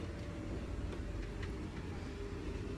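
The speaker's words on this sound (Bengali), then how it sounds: "এই মুহূর্তে ট্রেন 128 কিলোমিটার পার আওয়ার গতিতে এগিয়ে চলেছে পুরীর দিকে" Constant faint rumble and rattle of the Vande Bharat Express running at 128 km/h from Howrah toward Puri, heard from inside, steady and unbroken.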